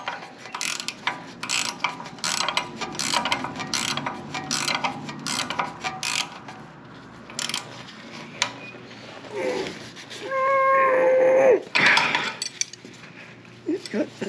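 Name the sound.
wrench tightening bolts on Moto Guzzi centre stand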